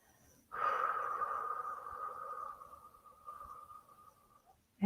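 A long, slow breath drawn in and let out with a steady airy rush that gradually fades, close to the ear and alone in a quiet room.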